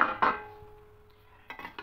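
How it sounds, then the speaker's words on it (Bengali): A lid clanks as it comes off a pot of vegetarian biryani made with rice, potato and soya chunks: a sharp knock, a quiet pause, then a few more light metallic taps close by. "এবার ঢাকাটা খুলে নেব।"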